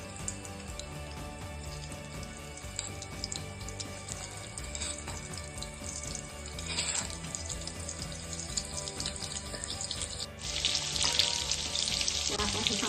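Crushed garlic and green chili frying in hot oil, a continuous close sizzle and crackle that grows hotter and louder toward the end, with faint clatter and watery hiss mixed in and no voices.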